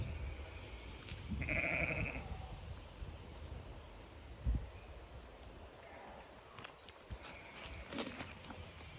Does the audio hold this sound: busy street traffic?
no